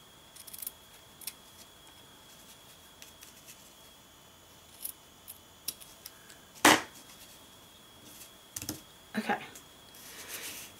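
Scissors trim ribbon on a handmade card, with a few scattered light snips followed by one sharper, louder cut midway and a couple more near the end, all close up and against quiet surroundings.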